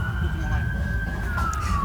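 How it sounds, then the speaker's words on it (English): An ambulance siren wails down the street, a single steady tone that drifts slightly downward as it passes, heard over low outdoor rumble at moderate distance. "There's an ambulance down that way."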